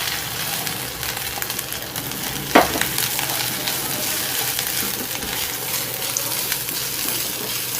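Grated coconut with green chillies roasting in a pan for coconut rice: a steady, moderate sizzle with stirring scrapes and one sharper clatter near the middle, and no voices.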